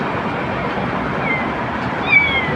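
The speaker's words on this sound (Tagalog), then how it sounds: "Kawawa naman na pusa, naiwan ng nanay." A small kitten left behind in a car by its mother lets out one brief, thin, high meow near the end, faint against a steady, loud background rumble.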